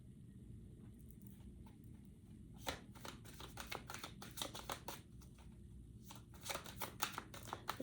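Tarot cards being shuffled close up, quick riffling bursts and soft slaps repeating in irregular clusters, alone without talk.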